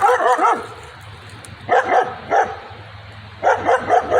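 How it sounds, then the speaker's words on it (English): A dog barks near a hiking trail in a few clustered bursts of barks and yips, with pauses between them. The barks are moderately close, and no one speaks over them. "Oh, there's a dog."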